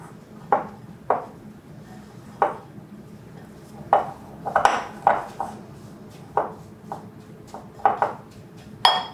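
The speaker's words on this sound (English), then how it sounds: "we're just gonna go ahead and mix in some melted butter. And then just go ahead and kind of mix this together" Dry crumb ingredients mixed with melted butter in a bowl: a series of sharp clinks and scrapes of a utensil against the bowl, irregular and close, about a dozen hits over a quiet background.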